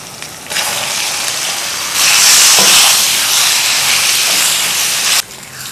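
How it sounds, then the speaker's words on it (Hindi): Chicken with red chili powder, turmeric and garam masala fries on full flame in a steady loud hiss that swells partway through and cuts off near the end. "फुल फ्लेम पर इसको 2-3 मिनट हमने भूनना है चिकन को"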